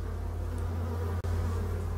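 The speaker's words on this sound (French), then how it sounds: "les petites abeilles qui commencent à revenir, y compris sur le côté de la ruche voisine" Honeybees returning to a hive, beside a neighbouring hive, make a steady, dense buzz that holds for the whole stretch, close and continuous, with one brief dropout midway and no voices.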